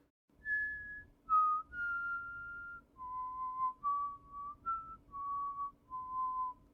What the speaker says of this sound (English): I actually have a recording here of me whistling out the tune trying to remember it.